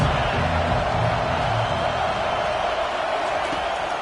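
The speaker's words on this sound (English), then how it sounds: "This crowd trying to make life miserable for this offense." A home crowd at a football stadium roars in a dense, continuous wash of noise, steady and loud throughout, with a commentator's voice faintly underneath.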